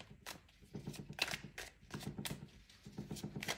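Tarot cards being shuffled by hand, with rhythmic bursts of riffling and slapping that repeat several times at close range over a low, steady background hum.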